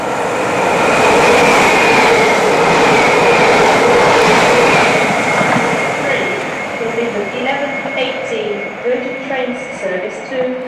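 A train passes through a station on a northern England railway, a loud close roar that gradually fades, leaving softer clattering wheel and mechanical sounds as it moves away.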